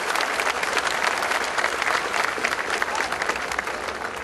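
A political rally crowd at an FMLN tribune bursts into dense, continuous applause, loud and steady throughout with no pauses, a broad wash of many hands clapping at once.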